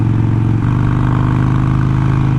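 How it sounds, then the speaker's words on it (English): A Harley-Davidson Iron 883 Sportster motorcycle thunders along in cold weather, its loud V-twin engine holding a steady, throbbing drone with a brief shift in pitch early on. "Oh, man, the bike runs great in this weather."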